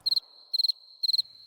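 Cricket chirping plays as a comic sound effect after a joke: crisp, high chirps in quick bursts of about four pulses, repeating at a steady rhythm over a thin continuous tone, clear and alone.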